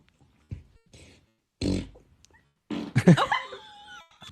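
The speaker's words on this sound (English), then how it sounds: "guess my fart." Several short, low bursts of flatulence separated by silence, close and fairly loud, ending in a longer rumbling, squeaky release.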